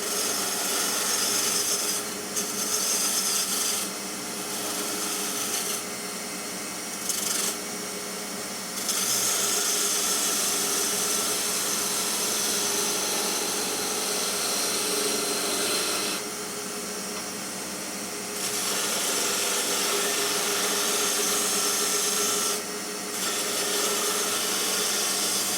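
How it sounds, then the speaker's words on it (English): Wood turning on a lathe with an Ashley Iles cork-handled spindle gouge cutting coves, a continuous hissing, scraping cut with rhythmic pauses as the tool comes off and back onto the spinning wood. "You obviously want to be able to do coves with a spindle gouge."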